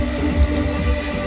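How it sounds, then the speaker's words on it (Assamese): Heavy monsoon rain pours steadily in a village during a Holi cookout, a dense continuous hiss of drops with no voices. "ইফালে দবাপিটা বৰষুণ ওপৰত"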